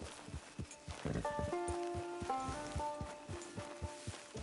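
Horse hooves clip-clopping in a steady walking rhythm in Red Dead Online, with a short musical tune rising over the footfalls.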